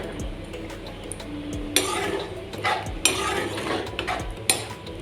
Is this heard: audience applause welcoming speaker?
no